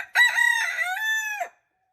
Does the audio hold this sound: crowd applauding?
no